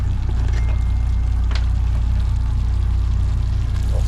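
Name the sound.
water poured into a cooking pot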